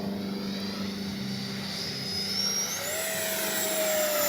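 A Freewing 90mm F-4 Phantom II radio-controlled jet flies past on a warm day, its ducted-fan whine steady and continuous, rising in pitch as it passes.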